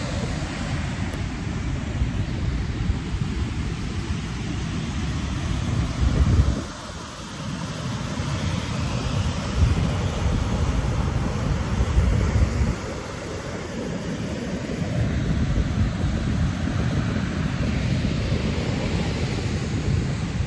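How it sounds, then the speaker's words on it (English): Ocean waves at Montera Beach, California, a continuous broadband roar of surf with wind buffeting the microphone, swelling and easing slightly over the span, with no voices. "Let's take a look at these waves."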